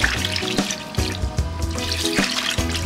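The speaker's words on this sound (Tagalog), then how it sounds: "I-transfer lang sa isang kawali at lagyan ng maraming tubig." Water runs steadily into a cooking pan holding a kilo of cleaned chicken feet, a close, continuous pour with splashy bursts, heard alone without talk.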